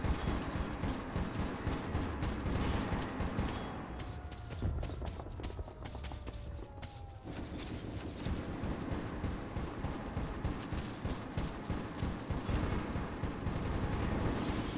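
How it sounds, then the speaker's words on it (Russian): Gunfire in the video game Metro 2033 Redux, sounding as a dense, continuous stream of sharp shots and clattering mechanical impacts, loud throughout with a brief dip in the middle. "Выстрелы идут с этой стороны."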